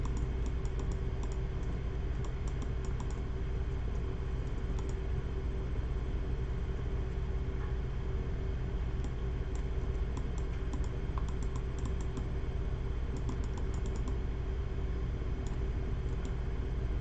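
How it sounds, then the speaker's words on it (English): Steady computer-keyboard typing during a 3D modeling live stream, with soft, continuous clicks sitting under a constant low hum of background noise and no talking. "You'll never know what keys I'm pressing."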